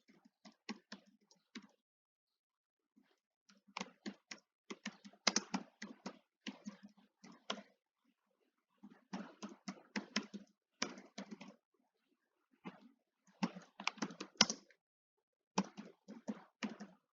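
Computer keyboard typing while filling in an online PhD application form, close and crisp, in bursts of quick keystrokes separated by short pauses, with no voices.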